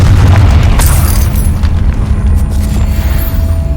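Deep booming blast from the Confringo fire spell in Hogwarts Legacy, a loud low rumbling explosion with a sharp burst near the start and a sustained roar fading slightly over a few seconds.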